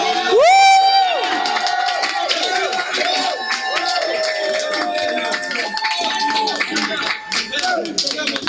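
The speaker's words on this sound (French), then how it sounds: "Tu peux pousser des cris de joie." A church congregation at a Friday prayer service raises cries of joy, with loud overlapping shouts, whoops and some clapping from a crowd that fills the space, and a voice rising above it.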